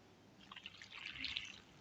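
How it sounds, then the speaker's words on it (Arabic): Hot water is poured from a vessel onto layered rice in a cooking pot for Palestinian maqluba, a faint, close splashing trickle that swells and fades over about two seconds with no talk. "هسه أنا وياكم راح نصب المي"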